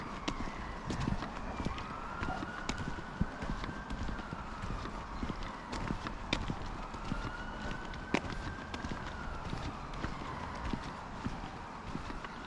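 A police car siren wailing at a distance near a road bridge by a country park in County Londonderry, its rising and falling tone faint beneath footsteps and scattered outdoor clatter.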